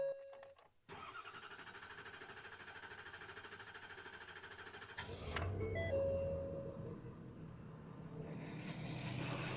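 A Ford F-250 truck engine cranks and starts after a fuel filter change, first with a steady churning hum, then catching midway with a louder rumble and rising rev that settles into a steady idle, heard close up with no talk.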